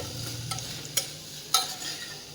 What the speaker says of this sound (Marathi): इथे मी पावभाजी मसाला घालते मिक्स करून घेऊयात